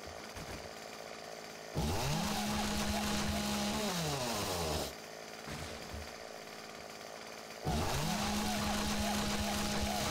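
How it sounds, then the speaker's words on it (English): Chainsaw in the video game 7 Days to Die revs loudly in two long bursts, dropping back to a rough idle between them, with the pitch sliding up as it winds up. "God, I love the chainsaw."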